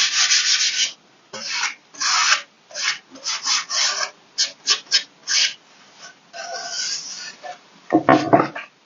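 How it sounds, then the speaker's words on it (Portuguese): Wood sanded by hand with sandpaper, in bursts of rough rasping strokes, some long and some short with brief pauses, close and fairly loud. "Deixa eu lixar bem onde estão os furinhos, porque solta um pouquinho de..."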